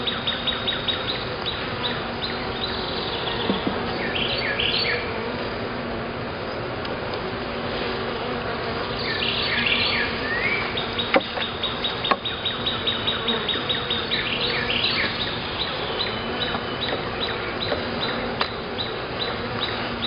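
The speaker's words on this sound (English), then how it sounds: "I got bees on this frame too" Honeybees at an opened backyard hive during a spring inspection, holding a dense, steady buzz for the full length, with faint bird chirps and occasional small knocks behind it.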